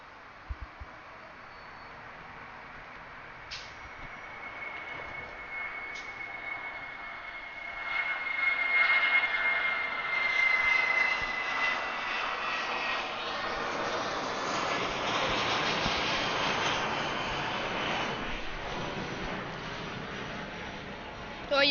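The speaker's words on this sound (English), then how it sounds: "here goes an A319" An Airbus A319 airliner passing at Atlanta airport, its engine roar swelling from a distant whine to a broad, loud rumble that lingers and slowly fades, with faint radio chatter underneath.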